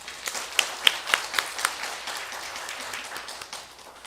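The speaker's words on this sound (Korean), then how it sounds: "특송으로 영광 받으신 하나님께 한 번 더 영광의 박수 올려드리겠습니다" Congregation clapping in a church after a special song, a quick burst of hand claps that swells and then fades away.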